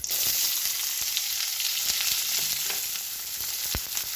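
Onions frying in oil in a pan for upma give a loud, continuous close sizzle, broken by a few soft stirring knocks.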